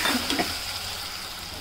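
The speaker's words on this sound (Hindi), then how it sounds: "मसाला डाल के धीमी आंच पे मैं इसे अच्छे से भून रही हूँ ताकि सारे मसाले पक जाए" Spice paste for taro root (arbi) gravy fries gently over low heat, giving a steady soft sizzle with a couple of quick stirring clicks at the start.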